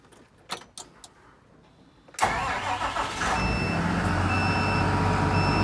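A Liugong 848H wheel loader with a hydraulic coupler sits quiet for a moment with a few clicks, then its engine cranks and catches into a loud, steady, close idle, with a high tonal beep sounding over the running engine.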